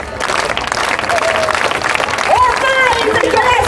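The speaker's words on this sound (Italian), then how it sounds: "Facciamo un applauso, uno solo, vai così, uno" A crowd at an outdoor Notte Bianca night event claps and cheers loudly in a dense burst, with a voice calling out over the noise and music-like tones toward the end.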